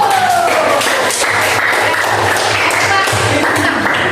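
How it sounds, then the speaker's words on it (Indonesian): Students in a classroom clap their hands together in applause, a close, loud burst of mixed clapping with voices murmuring underneath. "Ya, tepuk tangan dulu."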